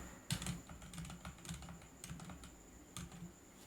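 Keys clatter on a computer keyboard as values are typed, in quick uneven bursts with short pauses between, close by and soft, with no voices.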